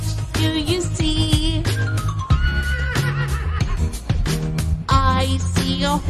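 A horse neighs loudly in a long, wavering whinny, then gives shorter whinnies against a backdrop of bright children's song music, with no talking over it.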